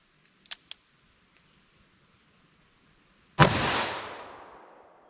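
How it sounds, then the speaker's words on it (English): A single sharp, very loud .327 Federal Magnum gunshot into ballistic gel, with a long echoing decay that rings out over several seconds after a few faint clicks beforehand. "let's hit that with our .327 Federal Magnum"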